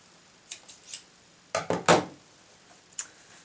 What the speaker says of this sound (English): Just make sure that's not going to come undone, and then snip it off.